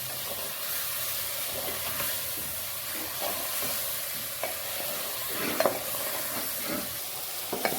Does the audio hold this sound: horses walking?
no